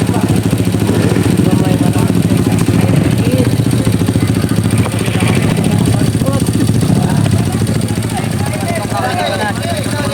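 A motorcycle engine labors uphill with a loud, steady, rough drone that holds close by throughout, while voices exclaim nearby.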